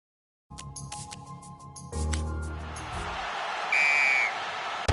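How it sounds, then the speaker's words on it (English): A single referee's whistle blast in a PS4 rugby video game rings out briefly over steady crowd noise, following a louder surge of the stadium ambience. "Blow of the whistle from the referee"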